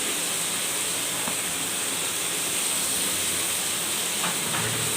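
Half a kilo of small washed methallu fish sizzling steadily in a hot pan of Andhra-style sweet curry, a continuous loud hiss throughout with no voices.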